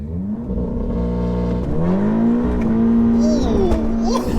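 A tuned 475bhp Audi S3 launches hard with heavy wheel spin, its engine note climbing and holding loud and close as the tyres scrabble, with faint voices in the background.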